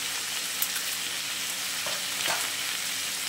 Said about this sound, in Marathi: यात आपण मिक्स करून घेऊया